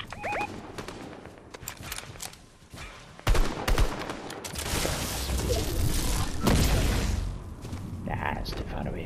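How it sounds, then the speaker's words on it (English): Fortnite gunfire cracks out in scattered sharp bursts, then denser volleys amid a noisy firefight, with a player's voice talking in between. "I'm getting shot."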